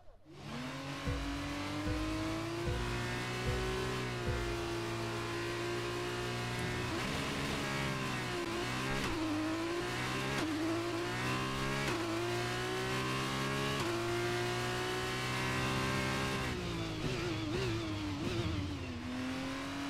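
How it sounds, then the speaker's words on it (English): Race start in the F1 23 video game on the Bahrain track with an F2 car, the engine screaming high and rising through gear changes, with other cars roaring close around it, loud and continuous. "Let's try and get a good launch as the race starts."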